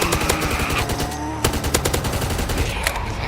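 Rapid, loud, continuous automatic gunfire from a zombie shooter video game, with dense bursts of shots filling the whole stretch and no talking over them.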